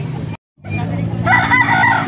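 A rooster at a busy chicken market in Angeles, Pampanga, a full stag about two years old, gives a loud, close crow that stretches over roughly the last second, with a brief silent gap before it and crowd noise underneath.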